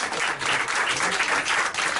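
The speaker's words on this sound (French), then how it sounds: "Je pense qu'on peut l'applaudir encore une fois." An audience at an end-of-year school show for a primary class claps loudly and continuously in a dense burst of applause lasting a couple of seconds.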